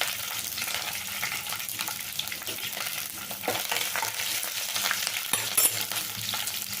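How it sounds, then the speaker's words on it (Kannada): Finely chopped medium-sized onion frying in a pan with mustard seeds and curry leaves, a continuous crackling sizzle with occasional stirring scrapes, close and moderately quiet, no voices. "ಈಗ ಈರುಳ್ಳಿ ಚೆಂದ ಫ್ರೈ ಆಗೋವರೆಗೂ ಹುರ್ಕೊಳ್ಳೋಣ."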